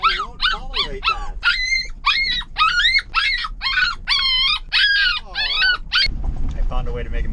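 A dog whines and howls without a break in a car, its rising and falling yelps and wavering cries repeating for several seconds and ending in a brief sharper sound and rustling.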